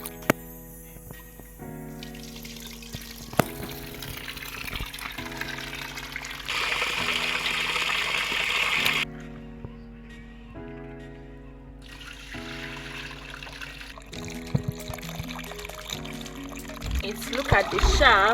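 Water trickles and pours steadily onto washed soya beans in a container, a close, continuous liquid splash that rises and eases over a steady background hum.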